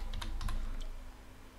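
Someone types a search term on a computer keyboard: a quick burst of several crisp key clicks near the start, then a lone tap, close by in a quiet room.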